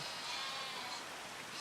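Sheep bleating in a farming video game, a steady, fairly loud sustained bleat heard alone over a soft background hiss.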